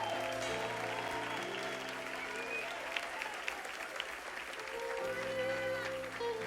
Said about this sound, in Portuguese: Hoje, você está muito xoxo com essas palmas aí.